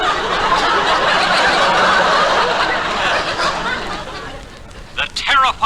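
In an old radio comedy sketch, a voice imitates a hyena's maniacal screech, a loud, sustained cackling cry that fades, followed by a few brief choppy vocal yelps at the end.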